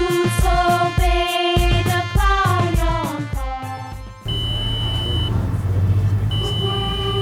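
A temperature-sensing alarm, triggered by a reading above 37 degrees Celsius, gives a rapid run of loud electronic beeps, then holds a sustained tone over a low background rumble.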